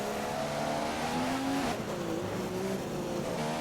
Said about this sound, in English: We're going to go down to gear 2, trying to get the best acceleration off the corner possible.